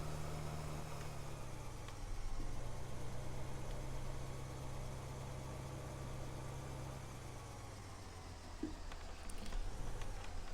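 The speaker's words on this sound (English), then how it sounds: "I've never seen a Unimog rake a field before, but you know, it can be a first for everything." Unimog tractor engine pulling a rake across a field in Farming Simulator 15, a steady mid-low idle-like drone running the whole time with slight rises in load, no voices over it.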